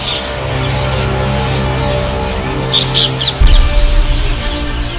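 A flock of parrots feeding on scattered grain in Vrindavan makes a dense, loud wash of noise, with sharp squawks and chatter standing out near the end. No voices are heard.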